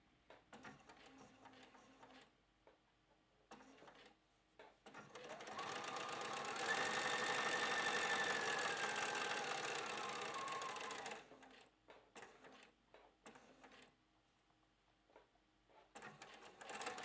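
A sewing machine runs steadily for about five seconds while stitching a line for a welt pocket on a flap, loud and close, with shorter bursts of stitching and handling noises before and after.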